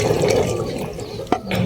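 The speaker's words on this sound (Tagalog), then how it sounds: "Tatanggalin lang natin yung kanyang tubig." Hot water poured off a pot of freshly boiled eggs, a steady close splashing stream with one sharp clunk of the pot near the end.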